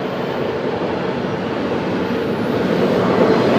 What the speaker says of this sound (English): This is a GO train east to Oshawa.